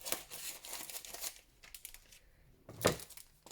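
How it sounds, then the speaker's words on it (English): A strip being cut from an ordinary household plastic bag, with crinkly, rustling bursts of plastic, a sharp crunch near the end, and no talking. "just a normal plastic bag that you may have indoors, okay? I'm just going to cut a strip off."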